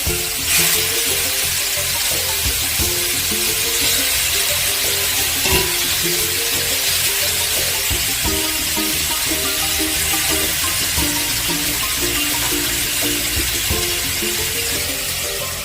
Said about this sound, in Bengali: তেল গরম হয়ে গেছে, ম্যারিনেট করা মাছ এবার দিয়ে ভেজে নেব